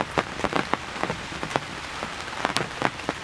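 Heavy rain pours down outdoors on a hunting morning, a dense, steady patter with many sharp, close drops striking nearby surfaces, moderately loud and without voices.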